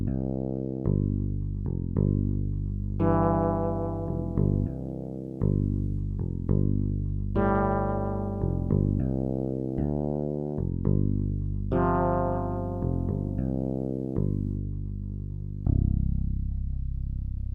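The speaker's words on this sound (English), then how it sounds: "Fretless bass. There's some hissing going on." A fretless bass sample plays from an Akai S900 12-bit sampler, with low sustained notes and sliding pitches in a loose bass line, steady background hiss underneath, and no talking.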